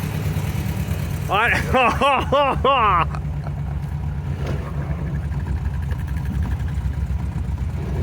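A repaired MGB engine rumbles low and steady throughout, while an excited voice shouts briefly over it near the start.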